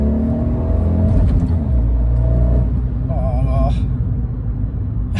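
A Fiat 500 Sport engine revving, a loud low rumble that climbs and holds, heard from close up with a person's voice over it.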